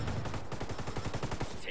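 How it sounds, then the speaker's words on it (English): Rapid automatic gunfire in the Ghost Recon video game, a quick steady string of shots rattling throughout, fairly loud and close, with voices faintly underneath. "Taking fire."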